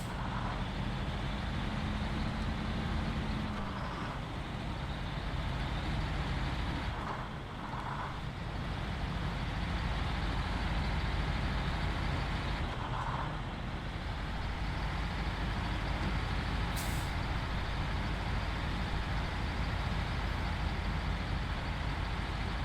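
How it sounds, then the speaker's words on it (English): A heavy off-road truck in the snowy driving game SnowRunner strains under load, its engine droning at a constant labouring roar with faint clunks, with no talking. "truck's really giving her everything she's got."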